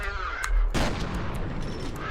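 A grenade explodes in the F.E.A.R. video game and blows up a fire extinguisher, a single sharp blast followed by a rushing, crackling burst that trails off.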